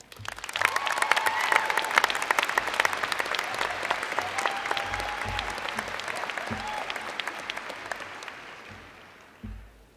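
Sustained applause from a graduation commencement audience welcoming a student speaker at a business school, a dense, steady crowd clapping that holds for several seconds and then tapers off.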